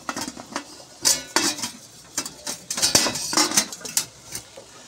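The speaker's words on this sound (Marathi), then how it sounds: "आणि आता ह्याच्यावर असं ताट झाकून" A metal plate set over a cooking pot on an idli steamer brings a series of clattering metal clinks and scrapes, several sharp knocks in an irregular rhythm, close and fairly loud.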